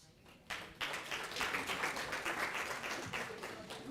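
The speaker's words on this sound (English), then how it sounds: "I think there's too much of applause here" An audience at a computing, AI and data science conference breaks into applause. The clapping starts suddenly and swells into dense, steady clapping from many hands, close and moderately loud, then holds for several seconds with no voices over it.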